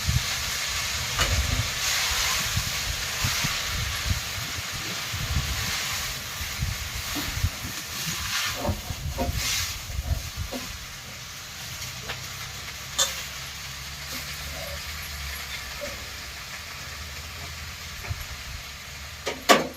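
Fenugreek leaves fry in oil in a pan, a steady close hiss and sizzle with scattered clicks and stirring scrapes, fading somewhat in the second half, no talk.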